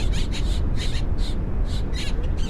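Birds caw repeatedly in quick succession at night at Dallas/Fort Worth International Airport, harsh calls overlapping at moderate distance over a low rumbling background.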